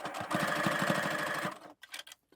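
A sewing machine stitches fleece sweatshirt fabric in a quick close burst of rapid rhythmic needle strokes for about a second and a half, then stops, leaving a few faint handling clicks.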